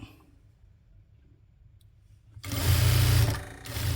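A sewing machine stitches a table mat made from old cloth. After about two and a half seconds of near silence, it starts with a loud, steady, close whirring hum.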